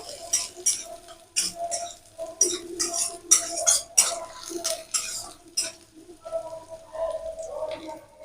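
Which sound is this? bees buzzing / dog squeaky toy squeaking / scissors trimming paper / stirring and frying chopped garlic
stirring and frying chopped garlic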